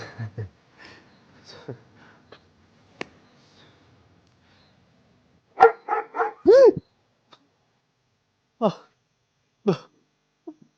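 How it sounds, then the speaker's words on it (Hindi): Dog barking outside at night, several sharp barks in quick bursts with a whining yelp, moderately close and loud, following a stretch of faint indistinct murmuring and soft noises with no clear speech. "कुत्ता था बाहर।"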